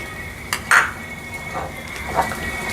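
Cashew-raisin paste fries with spices in a pan for a Bengali doi potol dish, soft sizzling under a few sharp spatula scrapes and clinks against the pan, close and fairly quiet.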